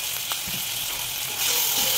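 Ginger garlic paste sizzles in a pan for moong kichadi, a steady hissing fry that grows louder toward the end, with a few soft knocks early on.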